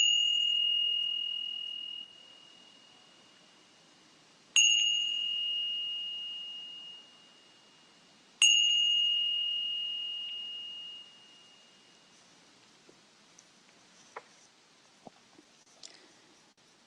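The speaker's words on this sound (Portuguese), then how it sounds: "até o final da última vibração do sino." A meditation bell is struck three times a few seconds apart. Each clear, ringing tone slowly fades away, then near-silence follows with a few faint clicks.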